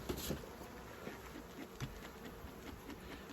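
Honeybees drone in a steady, close, moderately faint buzz at an opened beehive, with occasional brief louder passes of individual bees over the constant hum.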